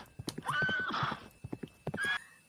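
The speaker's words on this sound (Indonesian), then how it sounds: "kuda kesayangan Sang Kemas yang sering dibawanya berkeliling kerajaan" A nobleman's favourite horse from a Jambi folk tale whinnies loudly twice, a long neigh near the start and a shorter one at the end, while its hooves clip-clop in a brisk, uneven rhythm throughout.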